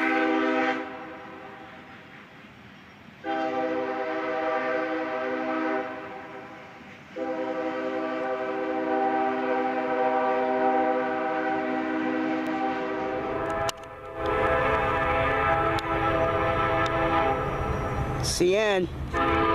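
A Union Pacific train sounds its horn in several long, loud chord blasts, pausing between them, followed by rumbling passing railcars and a brief warbling tone near the end.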